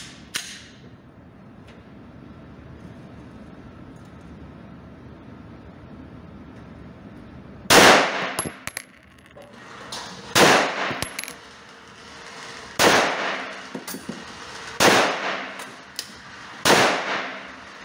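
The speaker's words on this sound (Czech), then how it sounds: "Střelbu jsem ukončil." Five loud gunshots ring out at spaced intervals after a quiet stretch at a shooting range target, each a sharp crack with a short echoing tail.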